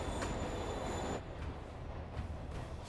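Train rushing past in a Spider-Man video game, a loud dense roar with a high squealing ring that cuts off sharply partway through, leaving a lower rumble with faint clicks of wheels.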